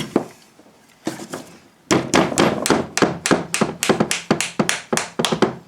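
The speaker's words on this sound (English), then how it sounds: "the base of a wooden hammer is extremely soft and will take the fall" A series of sharp taps from a wooden hammer fitting a Triumph Scrambler rear shock, sparse at first then a steady run of about a dozen evenly spaced knocks, close and fairly loud.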